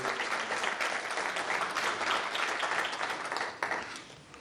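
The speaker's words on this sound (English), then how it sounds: "Let's give them one more round of applause, please" Audience at a writers award ceremony giving a sustained round of applause, broad even clapping from a large crowd that holds steady and fades slightly at the end.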